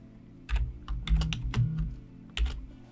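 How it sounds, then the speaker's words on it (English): Someone types on a computer keyboard with a microphone in front of them, producing close, irregular bursts of clicking keys and thumping key presses, fairly quiet and with no voices. "It's really hard typing with a mic in front."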